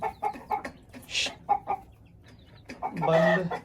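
A broody Aseel hen gives short, soft clucks in a loose rhythm close by, with a louder drawn-out call near the end.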